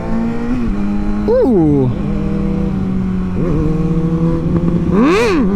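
A 2019 Kawasaki ZX-6R motorcycle idles loudly close by, then its engine revs up sharply twice with rising whines that fall back to a steady idle. A voice briefly exclaims.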